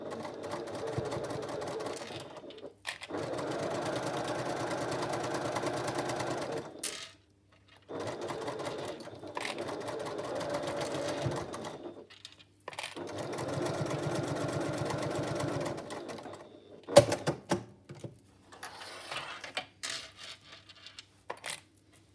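Sewing machine stitching cork fabric for zipper tabs in steady multi-second runs separated by short pauses, ending with clicks and handling noises, close by with no talking.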